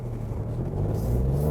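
A Seat Ateca with the 1.0 TSI petrol engine and front-wheel drive accelerating, a low, steady engine hum and rumble that swells slightly toward the end, heard from inside the car.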